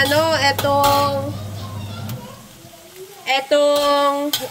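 Lamb mince browning in ghee sizzles softly and steadily beneath a voice talking throughout, with louder stirring and scraping bursts early and again near the end.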